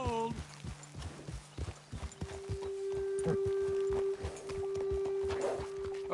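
Horse hooves clip-clop in steady, close, rhythmic beats during a Red Dead Redemption 2 ride, continuing throughout at moderate loudness with a faint tonal game score underneath.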